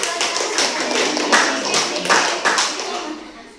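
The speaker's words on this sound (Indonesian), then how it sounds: "Tepuk tangan." A class of students clapping their hands together in a classroom, a steady, fairly loud patter of many hands that swells and fades over a few seconds, with faint voices mixed in.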